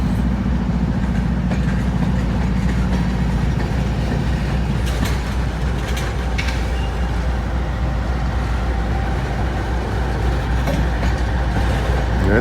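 A GE locomotive rolls past up close with a loud, steady rumble and rail noise, its low engine drone easing after the first few seconds while car clatter continues throughout.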